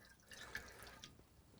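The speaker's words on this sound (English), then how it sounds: "So I'm just going to top it up with plain water." Plain water is topped up into an overheating narrowboat engine, giving a faint, close trickle with a few soft drips at intervals.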